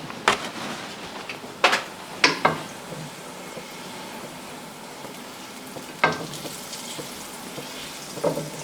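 Margarine melts in a pan that has been heating. The quiet sizzle is broken by several sharp knocks and scrapes of utensils against the pan, and no voices are heard.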